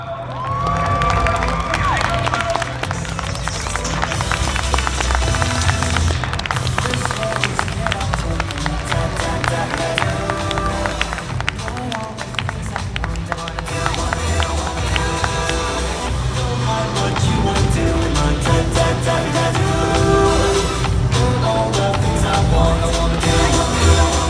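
A convention audience at a cosplay contest applauding and cheering for cosplayers of Ike Eveland and Vox Akuma, a dense crowd roar with clapping and shouts that stays loud and continuous throughout.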